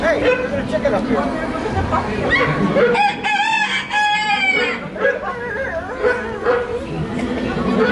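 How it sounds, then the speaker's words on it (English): A chicken crows on the EPCOT Living with the Land boat ride, a few drawn-out calls rising midway through, heard under continuous narration and background ride sound. "Hey, there's a chicken up here."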